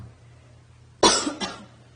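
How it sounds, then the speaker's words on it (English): A single sharp cough bursts out during a lecture, followed by a softer second cough, loud and close against a quiet room hum. "Sorry for my coughing."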